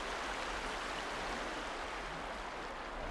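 A river in Alaska rushes steadily with a dense, even broadband wash, continuous and fairly close for the whole stretch, with no voices over it.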